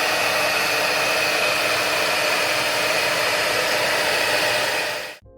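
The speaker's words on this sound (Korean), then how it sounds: "세면대 아래에는 노란색 헤어드라이기가 있고 바람 세기는 이 정도예요." A yellow hotel hair dryer blows steadily at full power for about five seconds, a loud close whooshing roar with a faint whine, then cuts off abruptly.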